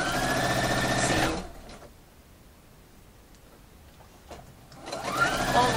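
A sewing machine stitches a French seam on sheer fabric in two short, close bursts of fast mechanical whirring, with a near-silent pause between them and no voices.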